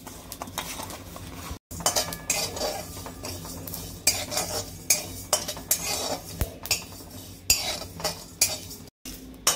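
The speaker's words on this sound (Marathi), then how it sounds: "जिरे चांगले लाल झाले की त्याच्यातच मी खसखस आणि तीळ टाकणार आहे।" Poppy seeds and sesame seeds dry-roasting with cumin in a pan for a Maharashtrian baingan masala, with a spoon repeatedly scraping and clinking against the metal in short bursts, close and fairly quiet, no speech.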